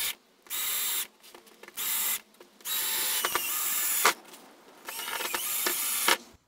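Power drill driving screws into a gaming table top, several separate whirring runs of one to two seconds with short pauses between, close and fairly loud, the motor pitch shifting as each screw bites in.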